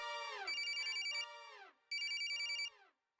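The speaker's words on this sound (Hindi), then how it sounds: "भैया, गुंजन का फोन" A telephone rings in two long electronic bursts with a short silent gap between them, clear and close with no talk over it.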